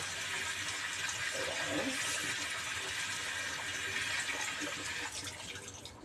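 Tap water runs steadily over enoki mushrooms being rinsed in a kitchen, a constant close splashing rush that carries on for several seconds, with a speaker saying a brief word.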